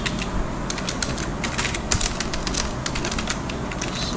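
Rapid, steady clatter of typing on a computer keyboard while writing a PHP script, a dense run of close key clicks with no speech.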